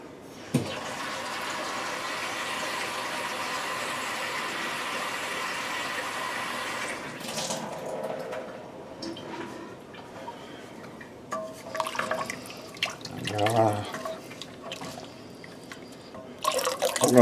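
Tap water runs into a cooking pot for crawfish and shrimp étouffée as a steady rushing stream for several seconds. Softer splashes, clinks and handling noises follow, all close by with no speech.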